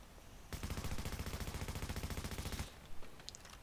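An LW M4 rifle in The Division fires one sustained full-auto burst of about two seconds, sharp, steady and rapid, fitted with sight and grip stability mods. A few faint clicks follow once the shots stop.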